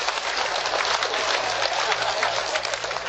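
An audience claps together for a becak driver at an Indonesian religious talk show, a dense, loud and steady burst of applause that lasts throughout.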